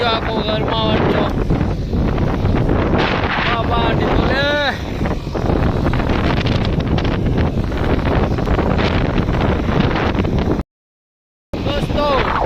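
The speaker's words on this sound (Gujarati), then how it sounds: "એક બાજુ કામ ચાલુ છે, એક બાજુ વરસાદ, એક બાજુ પવન નું તોફાન।" Unseasonal stormy wind with light rain sweeps across a farm field, roaring and buffeting the microphone loudly and continuously while a person talks over it, with a short dropout near the end.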